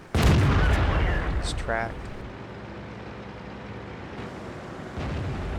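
A loud tank gun blast in a tank battle game opens with a heavy boom and rumbling decay, followed by a quieter second shot near the end; someone speaks briefly in between.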